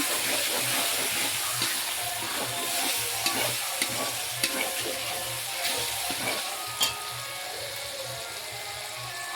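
Spice masala with turmeric, chili powder and a splash of water stirred and frying in a pan for a country chicken curry, with a steady sizzle and scraping strokes, close and moderately loud with no talk.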